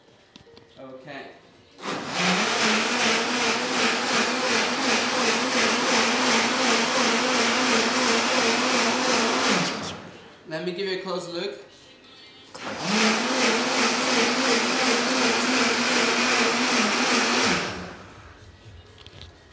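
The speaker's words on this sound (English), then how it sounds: "So the blender is going to be very loud." A kitchen blender powered by a BLUETTI AC200MAX portable power station runs in two long, loud bursts of steady high-pitched motor whine with a short pause between them. Someone speaks briefly during the pause.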